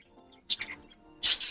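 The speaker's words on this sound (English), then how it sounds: "I hear birds. Yes, I have 3 budgies" Pet budgies give a few short chirps and brighter squeaky tweets in two bursts, fairly close and otherwise quiet in between.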